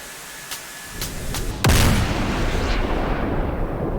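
Bombs from an unguided bombing run in the DCS combat flight simulator game, one sharp booming blast about midway followed by a long rumbling roar, with a few fainter pops before it.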